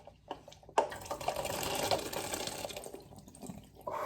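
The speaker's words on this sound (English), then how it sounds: "Now you just pour the boiling hot water." Boiling hot water from a pot of macaroni is poured into a strainer in a kitchen, a steady splashing, hissing rush that starts abruptly, runs for a few seconds and then trails off.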